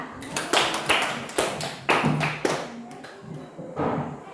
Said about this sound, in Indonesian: Tepuk tangan untuk Lita